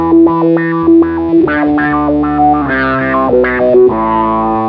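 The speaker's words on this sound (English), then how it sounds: "So right now I have the randomized filter running" Electric guitar through a Beetronics Zzombee Filtremulator pedal with its randomized filter running, a loud distorted riff whose tone jumps unpredictably from step to step, busy and continuous with no talking.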